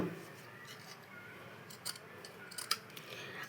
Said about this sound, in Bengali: সেখান থেকে আমি কেটে ছোট করে নিলাম